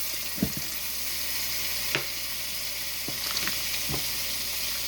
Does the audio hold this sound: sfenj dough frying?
yes